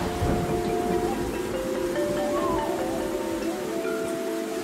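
A thunderstorm sound effect: steady, dense rainfall hisses without a break over a low rumbling undertone, continuous and fairly loud, with no voices.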